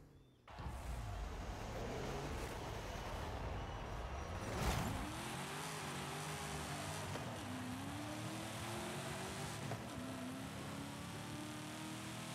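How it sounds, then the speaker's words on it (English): Impala Super Sport with an LS V8 in Forza Horizon 5, engine droning steadily and revving through gear changes, with one sharp rising surge midway, loud and close throughout. "So this is basically an LS engine."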